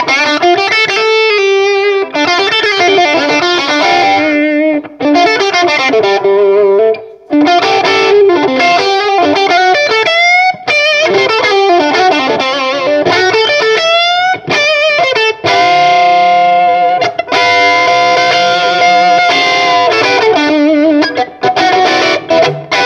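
Electric guitar driven through a Vox MV50 AC micro tube amp with an Ultraphonics drive pedal on the bridge pickup, a loud, continuous, thick overdriven tone with chords and lead phrases played alone for over twenty seconds.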